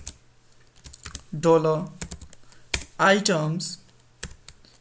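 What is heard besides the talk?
typing PHP code on a computer keyboard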